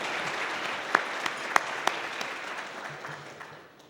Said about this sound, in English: Please join me in another round of applause for our newest Lett Scholar.